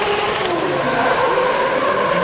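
A powerful Nissan drift car in FIA Motorsport Games qualifying roars loudly at full throttle while its tires squeal continuously, close and unbroken throughout.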